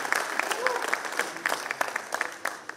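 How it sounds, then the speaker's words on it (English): A crowd at a school alumni meet gives a big round of applause, dense close clapping that stays steady and loud throughout with a faint voice underneath. "Can we have a big round of applause for them?"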